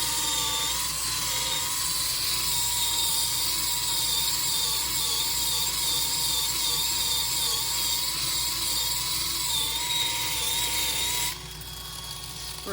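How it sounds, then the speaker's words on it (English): A power sander runs steadily and loud on a resin piece, smoothing down lumps and bumps with a continuous high whine that drops in level near the end. "I'm going to concentrate on getting these lumps and bumps sand it down real good here"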